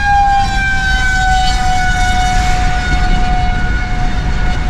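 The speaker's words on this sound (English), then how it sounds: "I'm going right by a siren." A loud, steady wailing tornado siren holds a sustained tone, heard close by from a passing vehicle over a rumbling background, with no speech.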